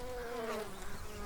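Honey bees buzzing at a Layens insulated horizontal hive, a steady close drone with shifting pitch from individual bees flying past, heard alone.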